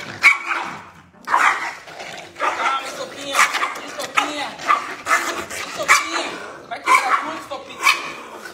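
A small dog barks and yips repeatedly in short uneven bursts, close by at bath time, with a person talking over it.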